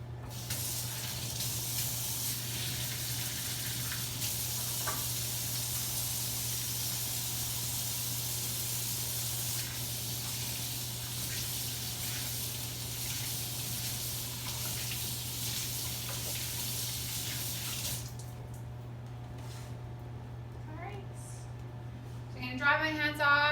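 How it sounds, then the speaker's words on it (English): Hands being washed under a steady stream of tap water at a kitchen sink, a continuous broadband rush lasting about eighteen seconds before the flow stops and a few small handling sounds follow. "I'm going to wash my hands to start off with for 20 seconds"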